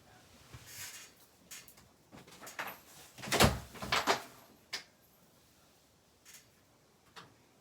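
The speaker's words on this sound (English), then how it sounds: "I gotta close the door that my dog just opened." A house door is pushed shut after a dog has opened it: soft creaks and shuffling build to a couple of fairly faint knocks and rattles, followed by a few scattered light taps in a quiet room.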